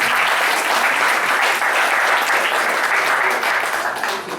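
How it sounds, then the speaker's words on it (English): Loud, continuous applause from an alumni celebration audience honouring women, thick clapping that stays strong throughout before easing slightly at the very end. "I think that deserves a round of applause."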